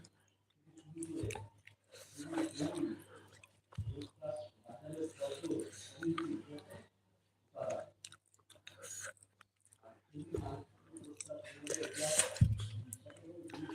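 Chewing while eating roti for breakfast, with soft wet mouth sounds in bursts spread across the stretch, close and fairly quiet, and background noise in between.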